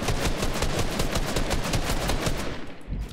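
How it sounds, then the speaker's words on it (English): Rapid automatic gunfire from a Fortnite battle, a dense, continuous stream of loud shots rattling for about three seconds before trailing off, with no voices. "he's literally just trying to shoot me down"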